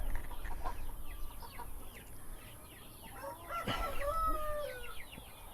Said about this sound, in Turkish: 4 tane tavuğumuz, bir tane horozumuz var Hintlerde.